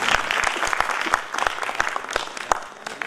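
A hall full of people at a centenary celebration applauds warmly, many hands clapping in an even, sustained burst with occasional sharper individual claps standing out.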